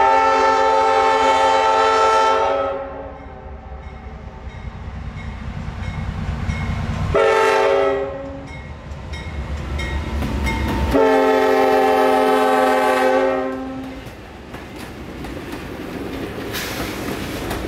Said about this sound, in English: NS93G FRA inspection train